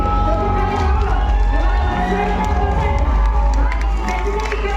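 A crowd at the grand final of an ethnic fashion show in Sarawak claps and cheers loudly and continuously, while a host's amplified voice and music carry on beneath the applause.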